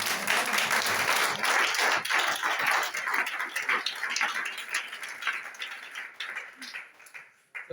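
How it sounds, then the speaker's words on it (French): A church congregation applauds and cheers for the Lord, a dense, loud wash of clapping and voices that slowly thins out toward the end. "Est-ce qu'on va acclamer au Seigneur?"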